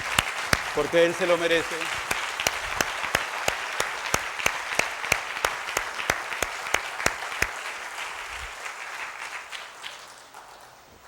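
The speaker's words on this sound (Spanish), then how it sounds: "Si le va a aplaudir, apláudale" A church congregation applauds during a Sunday sermon, with steady, rhythmic clapping that holds for about ten seconds and then thins out. A preacher's voice speaks over the start.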